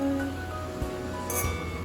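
Wine glasses of Sauvignon Blanc clink together in a toast, with a light, faint chime over a steady room hum.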